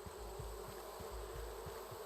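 Bees buzz steadily in the video game Raft, a continuous insect hum with soft low pulses underneath and no talking.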